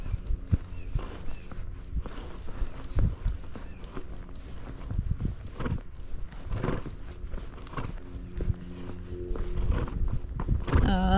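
A spotted saddle horse, a gaited breed, walking in training, its hooves clip-clopping in a steady irregular rhythm on footing, fairly close, with scattered rustles and thumps.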